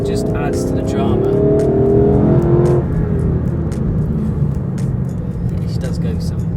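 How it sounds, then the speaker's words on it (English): A Lexus LC 500 accelerates hard, its engine note climbing in a rising rev before easing into a steady cruising roar, heard from inside the cabin with a person talking over it. "It's a heavy, like, physical mechanical noise, and you can feel it through the car."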